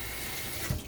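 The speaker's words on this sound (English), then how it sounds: "Wash my hands." Water runs from a sink tap during handwashing, a brief, soft, steady splash close by with a small bump near the end, and no talking.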